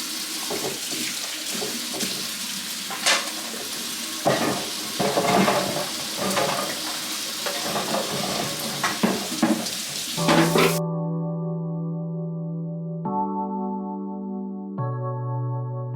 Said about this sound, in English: So I got my fries going.